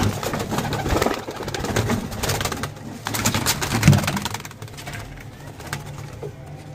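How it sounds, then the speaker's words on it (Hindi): Pigeons coo softly among cage and handling noises at a pigeon club, low murmuring calls beneath a busy, cluttered background. "ये होगी कबूतरी।"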